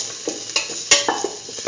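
Ginger pieces tossed in a hot pan for a curried beetroot chickpea dip, a short burst of sizzling with several quick scraping stirs and clicks of a utensil, close and without speech.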